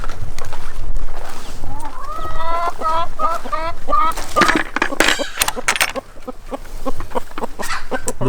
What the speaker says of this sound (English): The Wyandotte bantams.